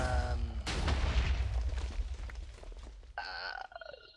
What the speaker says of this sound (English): There's a huge TNT explosion going off